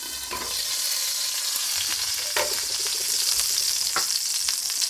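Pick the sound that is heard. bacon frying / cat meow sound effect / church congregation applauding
bacon frying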